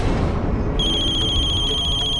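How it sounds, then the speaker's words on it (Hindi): A telephone rings with an electronic tone that starts partway through and repeats steadily over a loud, constant background bed. "रजनी जी का फोन"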